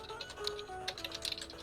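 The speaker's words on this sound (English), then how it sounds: "Who's typing?" Keyboard typing comes through a microphone as a quick run of light, irregular clicks, fairly faint against a steady background tone with no one speaking.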